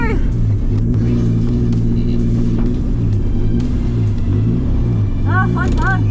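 Nissan 180SX at Nishi Short circuit, its engine droning loud and close with rising and falling revs, a brief tyre squeal near the end, and someone talking over it.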